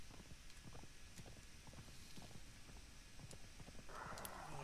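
Horse hooves in a Conan video game clop in a steady rapid rhythm while riding up a road, moderately loud and continuous, with a broadband rushing noise joining near the end.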